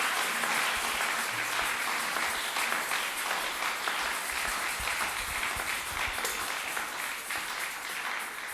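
A church congregation applauding, dense sustained clapping from many hands that fills the room steadily and stays fairly even, tapering slightly toward the end.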